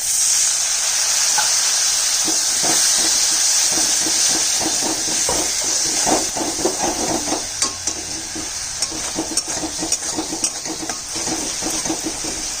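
Water is poured into a fish curry frying in a pan, making a steady hiss and sizzle. Soon after, a spoon stirs and scrapes in quick repeated strokes at close range, with no speech.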